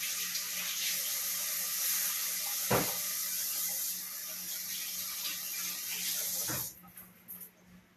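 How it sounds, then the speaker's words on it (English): Tap water runs steadily into a kitchen sink for hands being washed during lunch meal prep for potato salad, a continuous close hiss that stops abruptly near the end, with a couple of soft knocks. "I think I should wash my hands."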